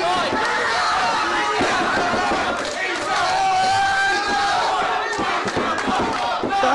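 A wrestling crowd at an IPW versus FWA six-man tag team match roars and chants loudly and continuously, with bursts of shouting and thuds from the ring mixed into the din.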